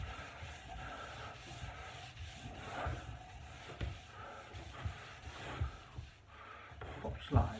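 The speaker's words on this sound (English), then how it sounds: "I'm going to give this one a bit of a scrub" Scrubbing a wooden dining table by hand, a steady rough rubbing and rasping that rises and falls in uneven strokes, close up, with faint bits of voice around it.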